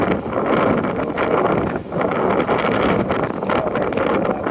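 Strong, continuous wind buffeting the microphone while walking near Scotia Square, a loud rumbling roar with gusts rising and falling throughout.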